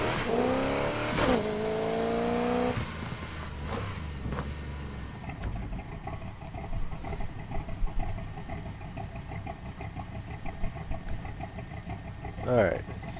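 A turbocharged car engine in the racing game Need for Speed Heat revs up in rising, climbing sweeps for a few seconds, then drops back under a quieter mix of background sound.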